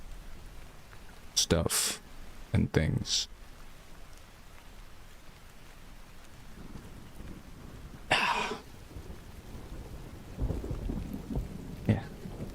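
Rain and thunder ambience plays on a livestream: a steady soft rain hiss with several sharp, loud crackling bursts and low rolling rumbles. A person talks intermittently over it.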